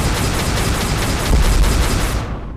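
Dense, continuous gunfire from a Roblox game, loud and sustained with a rapid rattling texture and a heavier burst near the middle, no talking over it.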